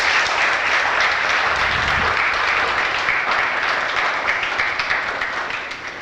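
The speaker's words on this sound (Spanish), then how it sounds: "Den un aplauso a Dios por esa promesa de Dios." A church congregation applauds in a dense, steady wash of clapping that thins slightly at the end.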